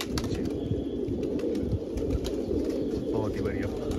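Pigeons in a loft, part of a fancier's flock of over 165 birds, make a steady bed of low cooing with occasional wing flutters, while people talk nearby throughout.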